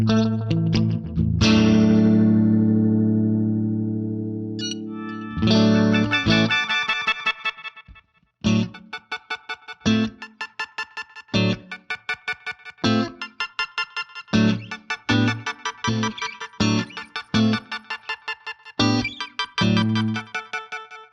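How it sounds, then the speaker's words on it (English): A guitar runs through Guitar Rig 6's grain delay effect: a long sustained chord decays, then a string of choppy, stuttering repeated notes and glitchy granular bursts follow in an uneven rhythm, loud and close with no talking. "So let's see what the grain delay sounds like."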